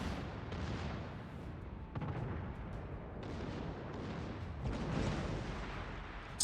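Continuous heavy naval gunfire and explosions in the World of Warships game, a dense, rumbling barrage of booming shots at steady loudness throughout.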